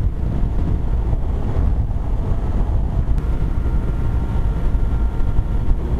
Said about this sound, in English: It's like crazy amount of wind out here.